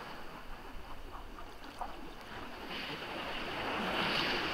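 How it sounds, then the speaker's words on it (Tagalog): Ocean waves wash and hiss steadily at Puerto Princesa, Palawan, Philippines, swelling louder toward the end as a bigger surge rolls in, with wind underneath and no voices. "Malaki na guys yung alon."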